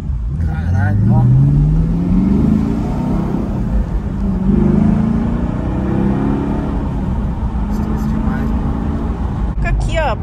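Chevrolet Camaro SS 1LE with a 500 hp engine accelerating, its low exhaust rumble rising in pitch through repeated revving sweeps, loud and close, with people talking over it.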